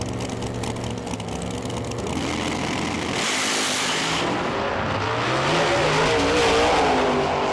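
Pro Mod drag race cars in a British Drag Racing Championship round run side by side, engines roaring loudly and building in pitch as they accelerate away, a continuous dense blare with a brief sharp surge mid-run.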